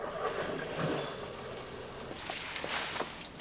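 Fresh water runs from a hose into a camper van's water tank, a continuous rushing fill that shifts to a brighter, splashier tone partway through.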